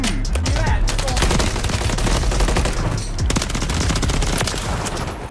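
Dense rapid gunfire from the video game Call of Duty Modern Warfare 3, loud sustained automatic bursts with overlapping shots filling the whole stretch.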